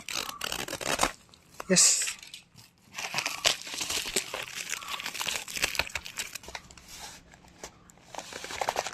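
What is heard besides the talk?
unboxing a courier package with an antenna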